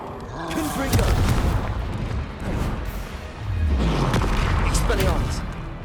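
Confringo fire spell cast in Hogwarts Legacy, heard as booming, crackling blasts that swell and fade twice over a few seconds amid other combat effects and a voice calling out spells.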